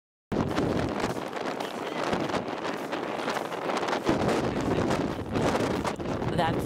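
Strong wind buffets a microphone on Iceland's south coast, a loud continuous rumbling roar with gusting surges that swamps a person talking underneath.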